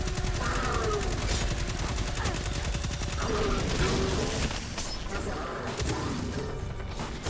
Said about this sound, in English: Ball got those railguns going hard.